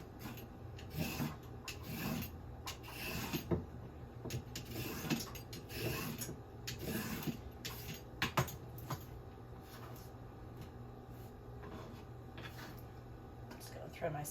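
Carrots being peeled with repeated rasping scrapes, one stroke after another in an irregular rhythm, close and moderately loud throughout.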